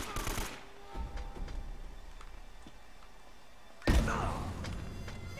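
Grenade launcher fire in the game Uncharted: Drake's Fortune, a loud burst at the start followed by distant thuds and gunfire, then a sharp heavy blast near the end.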